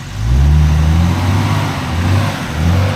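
A 4WD engine revs hard while the vehicle sits stuck on a muddy high-country track, a loud, close, low droning roar that swells and eases in pitch, with no voices over it.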